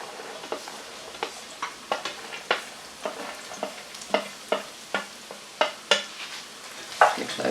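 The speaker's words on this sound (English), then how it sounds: "Give those a little stir around." Courgettes, carrots and celery being stirred in a pan: a run of crisp scraping and clacking taps, each a second or less apart, over a faint sizzle, close and with no talk.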